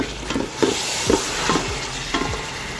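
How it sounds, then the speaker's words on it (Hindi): Tomatoes sauté in a pan for chicken pulao, a steady sizzle under repeated scraping stirs of a spoon against the pan, with no talking. "अब हम इसमें ऐड कर देंगे टमाटर, इसको अब हम भून लेंगे।"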